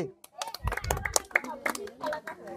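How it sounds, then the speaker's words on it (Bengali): A village crowd claps for a winner of a game where balls are tossed into a basket. Scattered, uneven hand claps sound close by, mixed with an announcer talking over them. "সকলে একটা হাততালি।"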